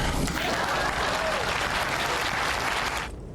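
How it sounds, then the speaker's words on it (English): Loud, dense applause from a crowd, steady for about three seconds before cutting off abruptly. "Please clap."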